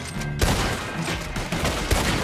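Gunfire in Red Dead Redemption 2 during a jailbreak sequence: a loud, close burst of several rapid shots followed by a couple more sharp reports, with no voices over it.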